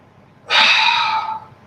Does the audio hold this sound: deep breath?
yes